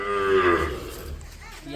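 A single cow gives one close, loud moo that tails off after about half a second, followed by quiet farmyard background.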